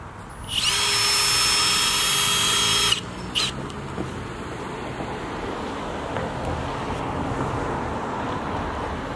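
A power drill runs at high speed for about two seconds, driving a screw through a sign into a fence, then falls silent, leaving outdoor wind and ambient noise.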